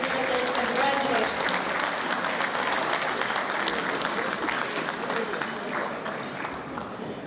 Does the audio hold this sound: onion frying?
no